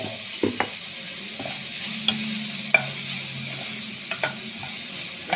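Dosa masala filling sizzles in a pan while being stirred, a steady soft frying hiss broken by a few light scrapes and taps of the spoon against the pan.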